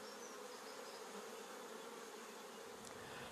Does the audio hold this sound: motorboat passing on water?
no